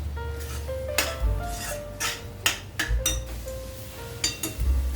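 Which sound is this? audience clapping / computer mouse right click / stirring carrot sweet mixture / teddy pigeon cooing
stirring carrot sweet mixture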